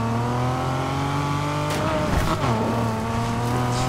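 A race car engine in the video game Need for Speed Heat drones loudly and steadily, with revving, gear changes and a brief tire squeal partway through.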